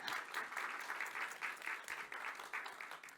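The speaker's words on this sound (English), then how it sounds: "let's give them a round of applause" A conference audience applauds the event organizers with steady, sustained clapping that fills the room evenly for several seconds.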